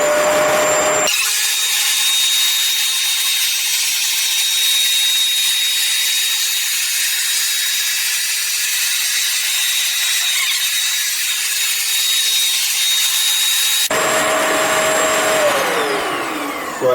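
A Bissell ProHeat 800 W carpet cleaner makes a wet pass over carpet, a loud, steady motor whine with hiss running unbroken for about thirteen seconds, a slightly different tone at the start and end.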